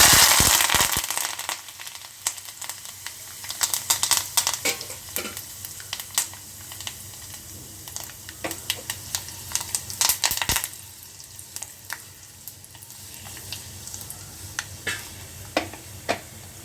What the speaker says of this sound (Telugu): ఇప్పుడు పోపు మనకి బాగా వేగిపోయింది